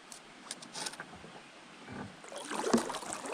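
A canoe paddles on the foggy Gunpowder River, with soft intermittent paddle splashes and water swishes close by, growing louder toward the end, quiet otherwise.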